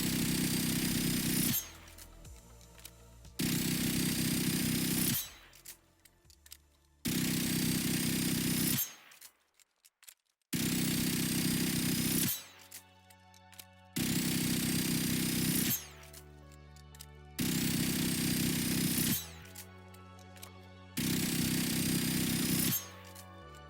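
Experimental Kapus gun in a video game firing in repeated sustained bursts, each a dense rapid buzz of shots lasting a couple of seconds, separated by short pauses, loud and close with no talk.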